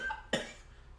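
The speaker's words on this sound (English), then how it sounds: "Bad time to make myself cough." One short, sharp cough breaks through quiet room noise, then fades away.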